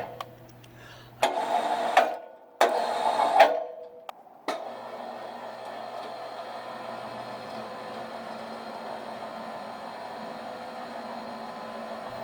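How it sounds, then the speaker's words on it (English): A winch-driven ladder hoist for lifting shingles whirs in two short motor bursts with abrupt starts and stops, followed by a steady low mechanical hum that runs on to the end. "Here I show the true speed of the lift."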